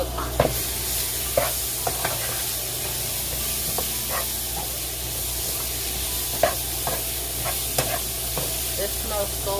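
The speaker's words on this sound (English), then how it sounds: "I'm just gonna add all my seasonings in here and let this saute down for a little bit before I add back my fish" Seasonings sauté for Jamaican curry fish in a pot, a steady soft sizzle and hiss with scattered clinks and stirring scrapes, alone and fairly quiet.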